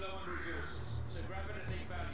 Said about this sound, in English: Hey! Crows!